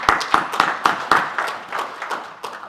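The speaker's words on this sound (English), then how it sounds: "I want to give a big round of applause to the man who is behind that" Audience at a boxing press conference gives a short round of applause for coach Ismael Salas, a handful of distinct, moderately loud claps that quickly thin out and fade.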